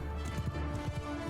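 Horse hooves galloping in a Mount & Blade II: Bannerlord battle with horse archers and cavalry, a quick, rhythmic clip-clop of several hooves, fairly faint and continuous.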